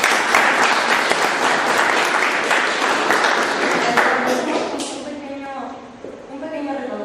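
An audience applauds loudly at a history club and guides' association event in Ecuador, steady dense clapping for several seconds that thins and fades out near the end.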